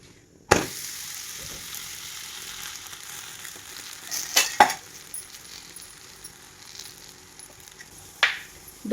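A radish paratha fries in oil on an iron tawa, a soft continuous close sizzle broken by a few sharp clinks and scrapes of a spatula.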